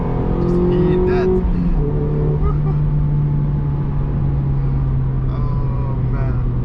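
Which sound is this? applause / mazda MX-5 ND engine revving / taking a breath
mazda MX-5 ND engine revving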